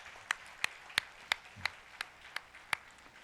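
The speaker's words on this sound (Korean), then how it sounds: "은퇴하시는 분들 다시 한번 격려의 박수를 부탁드립니다" Faint, slow, evenly spaced single hand claps, about nine in a row, sound at a church retirement service for deacons. They are heard alone and far off, with no talk.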